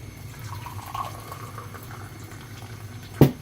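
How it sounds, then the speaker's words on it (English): Thai tea streams and splashes as it is poured back and forth between cups to aerate it, a soft continuous liquid trickle ending in one short louder splash or clink. "you got to pull up and down, up and down. Aerating the tea is very important."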